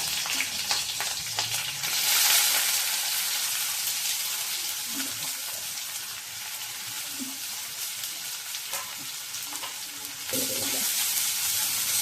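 Cumin, green chili and chopped onion fry in hot oil, a continuous bright sizzle with occasional stirring scrapes, close and steady throughout with a slight surge near the end.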